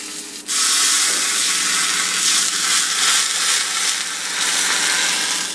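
Hot tempering oil with mustard seeds, curry leaves and asafoetida is poured into raw cucumber gojju. A sudden, loud, hissing sizzle starts and holds steady and close, without fading.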